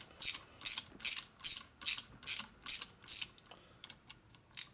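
A ratchet clicks in a steady rhythm, about eight bursts of close, crisp ratcheting, as bolts are turned into the threads of a big-bore Harley shovelhead stroker motor, then a few scattered softer clicks.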